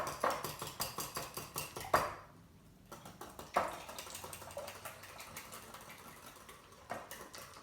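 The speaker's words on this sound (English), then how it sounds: "I have 6 eggs, and I'm going to add 1 cup of milk. And mix that up." Six eggs and a cup of milk are whisked in a measuring bowl, a quick steady series of rhythmic taps and clinks against the bowl, briefly pausing, then resuming in a looser, quieter rhythm up close.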